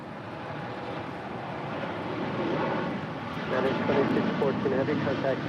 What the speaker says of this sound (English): Now rolling is United 2614, headed out to Newark on a 787-10 Dreamliner.